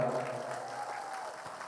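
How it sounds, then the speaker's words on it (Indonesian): Audience applause at a humorous Islamic sermon gathering in Merauke, a faint, steady wash of clapping from a crowd heard at a distance. "Tepuk tangan untuk beliau."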